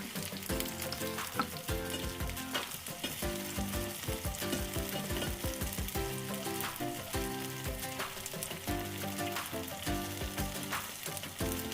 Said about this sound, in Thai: ก็จะทอดต่อไปเรื่อยๆนะคะ ให้เขากรอบนอก